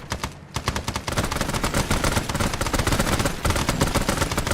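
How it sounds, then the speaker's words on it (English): Tracer gunfire in a video game rattles out as dense rapid automatic bursts, loud and near, with a brief pause near the start before a long sustained stream of shots. "there's some tracer fire coming in"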